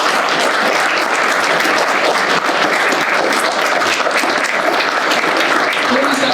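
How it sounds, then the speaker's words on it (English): An audience at a veterans recognition breakfast claps steadily and loudly for several seconds, a dense, even wash of applause with no pauses. "Give them a round of applause, please."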